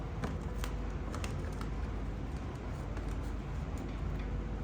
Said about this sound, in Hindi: ओके, एक बार और शफल करते हैं।